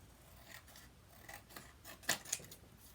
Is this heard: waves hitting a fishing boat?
no